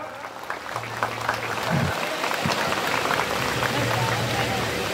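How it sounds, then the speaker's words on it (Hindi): Audience applause welcoming guests at a Karam festival evening gathering in Anandpur, a dense rattle of clapping with faint voices mixed in. "एक जोरदार से हमें ताली मार के स्वागत करब"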